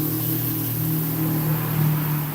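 Nissan Altima engine holding a steady mid-pitched drone with a gradual rise in revs, close and continuous, with no talk.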